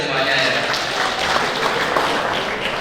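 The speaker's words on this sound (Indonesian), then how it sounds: "Tepuk tangan ke semuanya." An audience at an official government gathering of regional leaders and officials in West Java applauds, producing a steady, dense patter of clapping that holds at an even level for the whole stretch.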